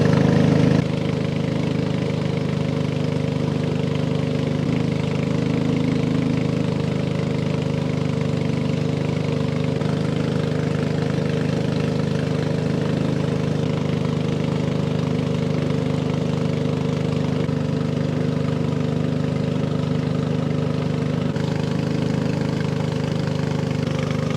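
A steady, droning combustion engine of a boat runs continuously at a constant pitch, like a motor idling, close by and unbroken throughout, on a lake in Thale Noi, Thailand.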